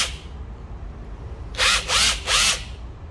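A Makita 14V cordless drill set to normal drill mode whirs up in three short, even bursts, close and loud, over a steady background hiss.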